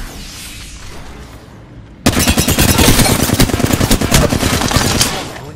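Apex Legends gunfire erupts after a quiet lead-in: a sustained burst of rapid automatic shots, loud and close, rattling for about three seconds before easing off.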